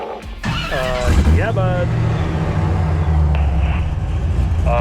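A Chevrolet C10 truck engine turns over and revs up, settling into a loud steady rumble close by at a race track, with a brief spoken exchange over the start.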